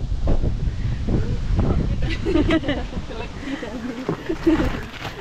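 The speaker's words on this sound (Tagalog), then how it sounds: "grabe, ang lakas ng hangin, uy. Ito yung storm nila dito." Strong storm wind in Finland buffets the microphone in heavy, rumbling gusts, with rustling and voices speaking faintly underneath.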